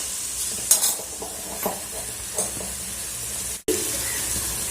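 Spices with turmeric powder sauté in a pan for crab soup, a steady frying hiss broken by several scraping spoon strokes and one brief dropout near the end.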